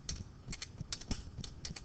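Rapid, steady typing on a computer keyboard, close and fairly quiet, with irregular clusters of light key clicks and no voices.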